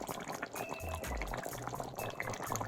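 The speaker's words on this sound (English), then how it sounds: "Jamaican allspice berries have risen to the top and are now bubbling in the gravy, which is thickening." Jamaican curry turkey gravy with allspice berries risen to the top bubbles and thickens in a pot, giving a steady close-up simmering sound with soft irregular pops and gurgles and no talking.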